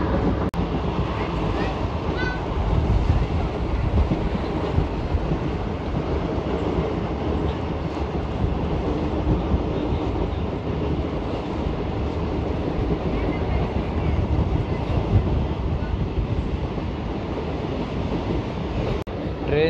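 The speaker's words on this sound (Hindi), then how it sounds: "ट्रेन जो है वो पहुंच रही है दुधिया खुर्द स्टेशन पर।" Passenger train between Puranpur and Mailani, pulling into Dudhia Khurd station: a continuous heavy rumble and rattle of the carriages heard from onboard, with steady rolling noise throughout the ride.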